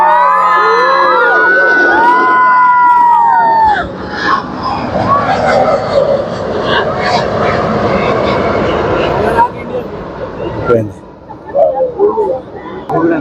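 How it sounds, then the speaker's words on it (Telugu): An airplane roars loudly past at the Wings India air show at Hyderabad Airport, the close engine noise swelling and then fading as a crowd cheers and people talk nearby. "కెమెరాలు కూడా పట్టట్లేదు విమానం."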